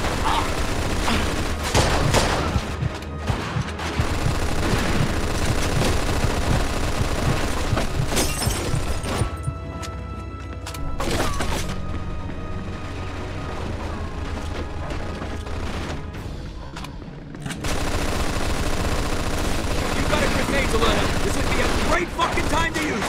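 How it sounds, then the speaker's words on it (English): Machine gun fire in a video game streamed on OnLive, a dense, loud rattle of bursts and explosions that drops to a quieter stretch before resuming, with shouting voices mixed in. "Looks like we found the machine gun!"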